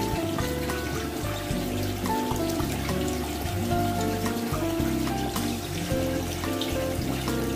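Water is poured steadily into a koi pond, a continuous splashing flow that runs the whole time, near and fairly loud, with no one speaking.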